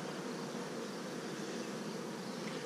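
A colony of honey bees hums around an opened hive, its frames out for inspection; the buzzing is close, even and unbroken, with no talking.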